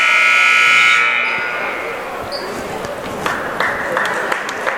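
Buzzer sounding at a high school boys varsity basketball game between Portland and Falmouth, a loud sustained electronic tone lasting about a second before fading into gym crowd noise and scattered sounds.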